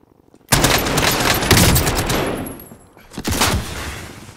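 Loud rapid gunfire in the battle royale shooter Warzone: a sustained automatic burst starts abruptly, fades, then a second short burst follows after a brief pause.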